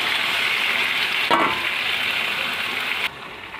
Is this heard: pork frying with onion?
yes